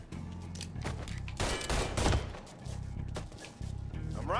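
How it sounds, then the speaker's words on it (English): Heavy gunfire in the Mafia 3 video game, with dense overlapping bursts and loud impact cracks that swell through the middle, continuing as layered game combat noise. "Under heavy fucking fire."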